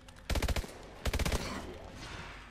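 Two rapid bursts of automatic gunfire aimed at a zombie in AW Exo Zombies, each a quick string of five or six sharp loud shots, separated by a short gap and followed by a lingering noisy tail.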